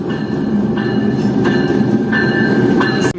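The Fareed Express passenger train rolls along on its Pakistan run between Lahore and Karachi, a loud steady interior rumble of wheels on rails with a recurring squeal and rhythmic clacks.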